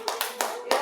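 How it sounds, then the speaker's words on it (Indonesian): Students in a classroom give a short round of clapping for a student group, four quick bursts of hand claps close by, with a voice audible underneath. "Tepuk tangan terima kasih untuk kelompok Fahmi."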